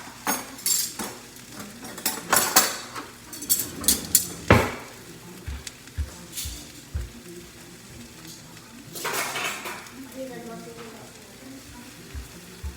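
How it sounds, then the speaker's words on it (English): Plates and silverware being set out in a home kitchen while fish tacos are made, with scattered clinks and clatters over a steady pan sizzle. "We'll get plates. And of course, we gotta have some silverware."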